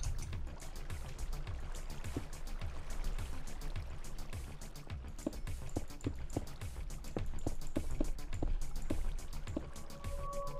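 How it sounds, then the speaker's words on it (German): Steady rushing water from a waterfall in a video game, a dense continuous roar with splashing texture that stays loud and unbroken throughout, with no voices. "Ich stehe gerade nicht so auf Wasserfall hier."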